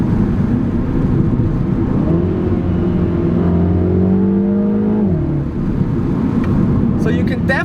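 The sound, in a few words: 2020 Mini Cooper JCW exhaust note while driving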